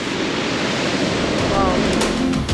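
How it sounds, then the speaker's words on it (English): Fast-flowing river water in Patagonia roars steadily and close by, a dense broadband wash with a brief tonal squeak partway through. "Look how fast and how much water this is."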